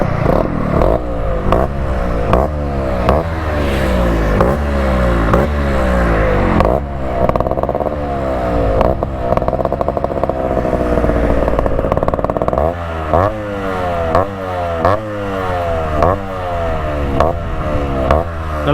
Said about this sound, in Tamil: இப்போ பாருங்கள் சாம்பர் சவுண்ட் எப்படி இருக்குன்ட்டு.